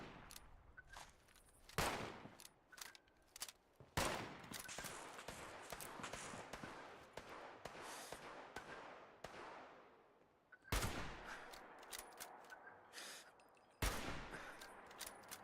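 Gunfire in the video game Fallout 76, with rapid bursts of shots and several sharp louder blasts scattered across a busy, continuous stretch of combat noise, fairly close.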